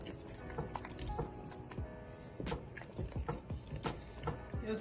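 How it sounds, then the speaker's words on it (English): A spoon stirs egusi pepper soup with fish in a pot, giving soft wet squishing and liquid sloshes in an irregular rhythm, close and fairly quiet. "Just give it a little stir."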